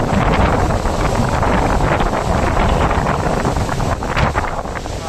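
Strong outdoor wind buffets the microphone in a loud, continuous roar with gusty swells throughout and no voices.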